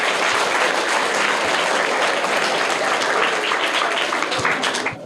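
Loud, sustained applause from a crowd, dense clapping continuing steadily for several seconds without a break.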